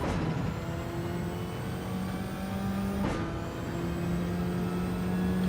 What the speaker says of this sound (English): A little whistle off the turbo.